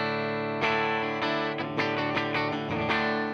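A sustained tone processed through a distortion effect plays steadily, rich in buzzing overtones, with several sharp attacks marking new notes or strums throughout.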